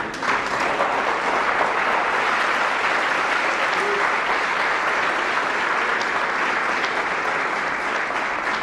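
A church congregation during a sermon breaks into steady, loud applause, a dense unbroken wash of clapping from many people that holds evenly for several seconds without voices.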